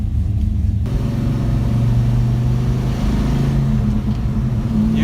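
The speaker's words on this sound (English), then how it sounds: "You have 525 Chevrolet Performance LS3 horsepower under the hood." A Chevrolet Performance LS3 V8 making 525 horsepower in a car with a six-speed manual gearbox, running loud and close with a deep, steady rumble that rises slightly in a sustained rev.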